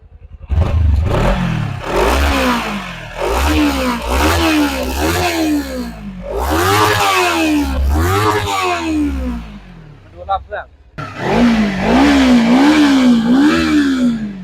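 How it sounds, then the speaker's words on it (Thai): A Kawasaki Z300 ABS 2016 parallel-twin motorcycle is revved in repeated sharp bursts, each rising and falling back, close and loud, with a short pause before a final series of quicker blips. "เรามาฟังเสียงเครื่องกัน"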